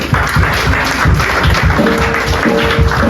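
A church congregation claps steadily together in acclaim of the Lord, loud rhythmic handclaps close and continuous throughout.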